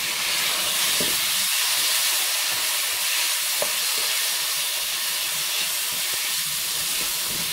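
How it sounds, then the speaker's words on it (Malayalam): Tomatoes cook in a pan of spiced chilli powder for a Kerala-style tomato curry, giving a loud, continuous steamy sizzle and hiss close up with no talk. "ഇതിലേക്ക് തക്കാളി ചേർത്ത് വേവിക്കുക."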